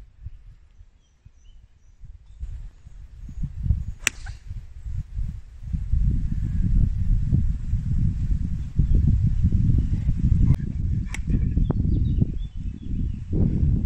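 A short gust of wind on a golf course at Golf d'Arcachon, heavy low buffeting rumble building up after quiet and roaring steadily against the microphone, with a sharp click early on.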